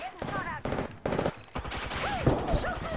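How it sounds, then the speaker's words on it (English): Gunfire in the video game Apex Legends, rapid bursts of shots and impacts fired in quick succession, loud and close, mixed with clipped in-game sounds and a voice. "Getting shot at."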